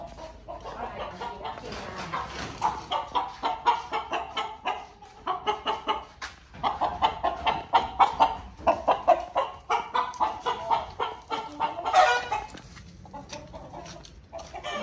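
Chickens cluck in a coop in a wide, loosely fenced Vietnamese garden, a busy run of repeated clucks and squawks from several birds, close and fairly loud, with a voice faintly underneath.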